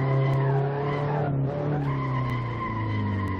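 A car sliding sideways in the racing game Assetto Corsa, a loud sustained tire squeal over a droning engine tone that dips and shifts pitch mid-slide.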